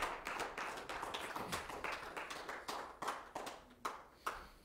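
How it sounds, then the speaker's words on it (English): A church congregation at a Wednesday night Bible study claps hands, with a series of distinct sharp claps and bursts in an uneven rhythm, moderately loud in a roomy space and with no talking. "We just clap our hands to the Lord for the word."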